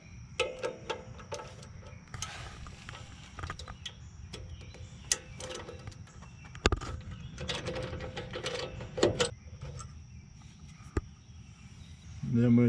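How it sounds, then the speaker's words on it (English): A ratchet clicks steadily while removing a 10mm bracket bolt on the brake line of a 2003 Ford F150, the light ticking rhythm broken by occasional metallic clanks and taps nearby. "First I'm going to remove this 10mm bolt for the bracket."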